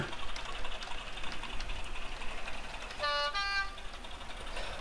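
A small toy train hums and whirs along, then a brief tooting horn sounds over the mechanical running noise.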